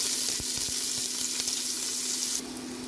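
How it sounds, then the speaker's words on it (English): Onions fry in an oiled pan for a bean vermicelli noodle dish, giving a loud steady close sizzle with a few faint taps, easing slightly toward the end. "let's fry our onions"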